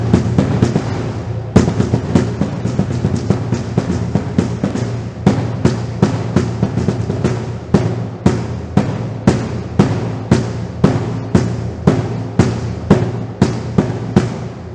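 A marching bass drum plays repeated loops of an SEC-style cadence, with sharp, booming strokes in a steady, syncopated rhythm. The hits are close and loud, with no voices.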